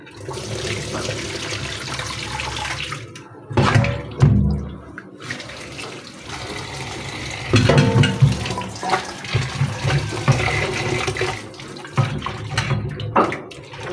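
A kitchen tap runs steadily as vegetables are rinsed for a mixed fry, the flow splashing in bursts and pauses, with changes in pitch as hands move produce under the stream; no talking.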